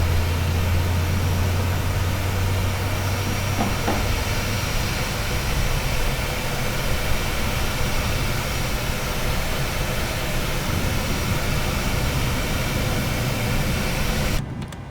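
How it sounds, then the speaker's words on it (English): A Boeing 737 jet engine in Microsoft Flight Simulator, PMDG model, running as a steady broad whooshing roar with a low droning hum that fades out early, continuous and close throughout. "Beautiful, beautiful engine."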